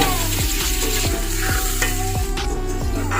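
Chicken liver and gizzards fry in masala, a dense steady sizzle punctuated by regular rhythmic knocks of a spoon stirring against the pan, close and fairly loud.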